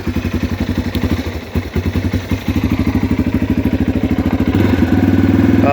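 A 2018 Yamaha TTR230 dirt bike idles close up with the choke on, its single-cylinder engine thumping in a quick, even rhythm that rises slightly in speed toward the end.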